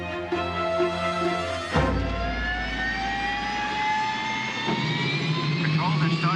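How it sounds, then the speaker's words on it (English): Aircraft jet engines start up, a loud, continuous whine that climbs steadily in pitch as the turbines spool up, with a sharp thud as the roar begins and deep rumbling underneath. "Control, they're starting the engines."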